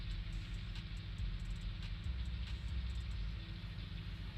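A HUDIG backhoe tractor engine running in Farming Simulator 19, a steady low idling rumble with a faint periodic ticking above it, constant and fairly close, with no talk.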